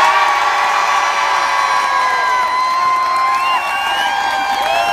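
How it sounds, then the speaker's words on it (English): A crowd cheers loudly for a group of players, a continuous roar thick with shouts and high whoops lasting throughout. "So I would like to say a big cheer for this group of players."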